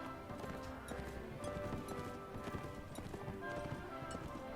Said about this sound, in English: There's a lot of these cavalry bastards riding about.